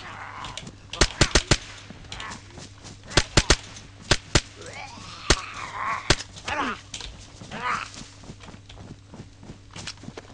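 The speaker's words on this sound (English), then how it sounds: "Yeah, I'm going to shoot him." Sharp gunshots ring out in the DayZ survival game, single and in quick clusters of two or three, loud and near. Quieter shuffling and voices fill the gaps between shots.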